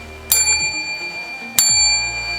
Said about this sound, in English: don't forget to hit this bell